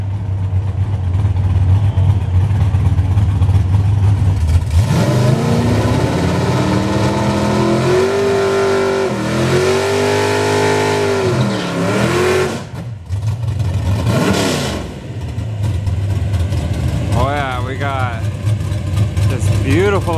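A Chevrolet Impala and an Audi R8 at a drag strip test-and-tune night, loud engines idling and revving, then a hard accelerating launch sweeping up and away, followed by more nearby engine rumble with a voice talking over it.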